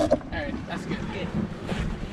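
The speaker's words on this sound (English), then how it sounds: "I'm hoping you can hear the sound of the wind coming through the rigging" Wind rushes through the rigging of a sailboat at sea in a steady, fluttering roar mixed with water noise, with a voice talking faintly underneath.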